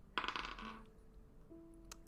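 Dice roll onto a table during a tabletop role-playing game session, a quick burst of clattering rattles and bounces that settles within about a second, followed by faint tones and one small click.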